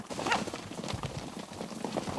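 Campeiro horse hooves clip-clopping on the ground in a rural droving setting, a loose run of hollow knocks at moderate distance, with a faint squeak and outdoor background.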